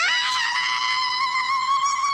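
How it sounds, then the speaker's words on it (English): A man shrieks in a high, girlish falsetto, a loud, sustained wavering scream lasting a couple of seconds with no other sounds around it. "That's just some dopey bum screaming in a girly voice!"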